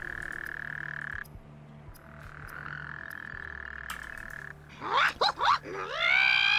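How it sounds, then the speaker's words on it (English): A toad-croaking sound alert: a steady, droning croaking call holds for several seconds, followed by a few rising, whistly chirps and a sustained bright trill near the end. "Thank you, Ryan, for the toad sounds."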